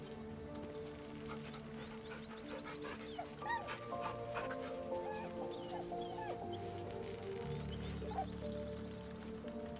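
A dog barks and whimpers in Baldur's Gate 3, with short yips and cries over a busy game backdrop of steady tones and scattered clip-clop and clucking sounds.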